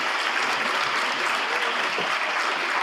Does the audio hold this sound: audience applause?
yes